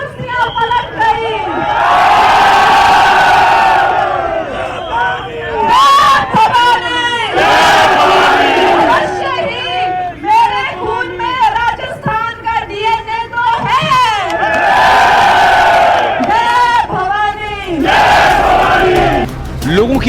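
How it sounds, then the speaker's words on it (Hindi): A huge crowd at a Kangana Ranaut road show in Jodhpur roars, shouts and cheers in loud repeated waves, close and dense, and the chanting swells and falls across the clip. "लोगों की अपार भीड़ ने कंगना का उत्साह भी बढ़ा दिया"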